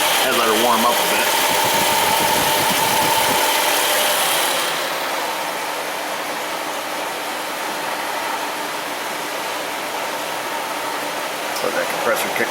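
A car engine idles steadily with the A/C system running, a broad fan-like whoosh and mechanical drone that eases slightly partway through, with someone talking over it.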